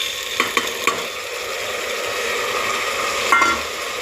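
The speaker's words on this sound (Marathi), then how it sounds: "हे छान असे परतवून घ्यायचे." Soaked lentils, peas, tomato and potato are sautéed in a pan for a home-style spiced rice dish, heard as a close, even sizzle with a few quick metallic stirring clicks at the start and again near the end.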